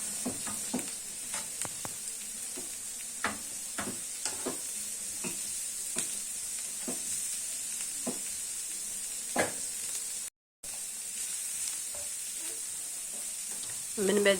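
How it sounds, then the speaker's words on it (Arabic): Onion frying in oil with salt and spices in a pan, stirred throughout: a steady sizzle runs the whole time while a utensil scrapes and taps at irregular intervals. No one speaks. "غادي نبدا نحركو في البصله ديالنا حتى كتبدا تشحر"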